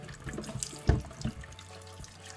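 Water runs from a kitchen tap into a sink while four carrots are washed, heard as soft, uneven splashing in short bursts at a quiet level.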